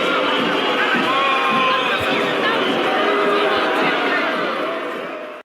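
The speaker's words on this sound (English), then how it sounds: "Listen to this crowd. It sounds insane." A large Soviet arena crowd at a Rocky IV boxing match roars continuously, a dense wall of cheering and chatter that stays loud and steady before easing off at the very end.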